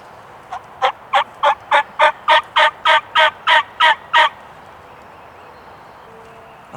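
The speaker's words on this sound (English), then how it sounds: "I heard a gobbler gobble 3 or 4 times" A wild turkey gobbler gobbles once, loud and clear in open country, as a rapid series of about a dozen evenly spaced rattling pulses that form a single rolling call, followed by quiet.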